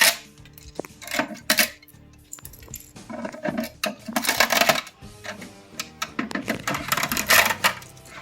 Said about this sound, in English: I'm going to pull some of these supports off, see what I can get by hand.